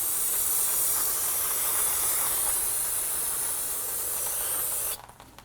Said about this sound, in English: And then use some spray solvent and clean it up.